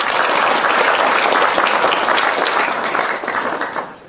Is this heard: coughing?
no